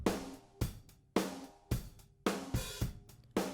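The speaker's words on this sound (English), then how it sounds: "So completely driving the gain here sounds like this." A drum bus pushed hard through a Lindell 50 Series API-style preamp plugin with the gain fully driven, a steady groove of punchy kicks and bright, crunchy snare hits repeating about twice a second, dense and saturated with no voices.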